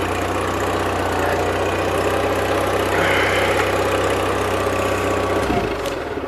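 A model 817 tractor engine idles steadily after a carburetor change, a close, loud, even low rumble that holds throughout and briefly shifts near the end.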